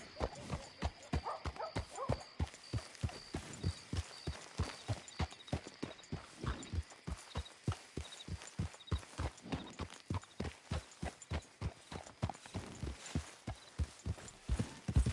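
Steady, evenly paced hoofbeats of a horse walking in Red Dead Redemption 2, close and distinct, a regular clip-clop rhythm running throughout with faint background sounds and a brief voice near the start.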